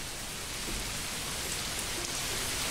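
Steady rain from the medieval city-builder game Manor Lords, a continuous even hiss of falling water that stays consistent throughout with no voices over it.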